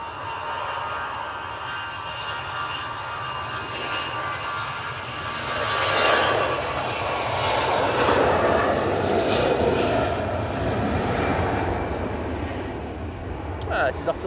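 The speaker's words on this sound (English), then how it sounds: "Right, we will go on this EasyJet. Let's now spool it up. A320 200." EasyJet Airbus A320-200 jet engines spooling up for takeoff at Manchester Airport during stormy weather, a loud broad roar that swells and holds with rising whine, heard from a distance with wind, no speech over it.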